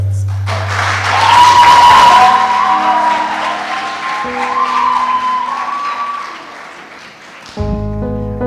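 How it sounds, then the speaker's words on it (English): Theatre audience applauding loudly for several seconds, a dense burst of clapping with a tonal musical sound running underneath, ending as music comes in. "Applaudissions, applaudissions, applaudissions."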